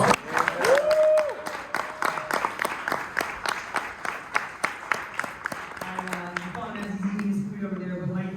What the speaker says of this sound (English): Everyone needs to give him a huge round of applause.